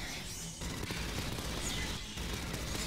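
Smart gun firing in the Aliens: Fireteam Elite video game against xenomorphs, a steady, dense stream of rapid automatic gunfire that runs continuously and loudly with brief dips in intensity.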